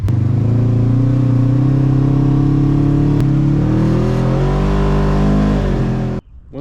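An engine fitted with an upgraded EPI primary and secondary clutch kit revs loudly and steadily, its pitch rising slightly near the end before cutting off abruptly.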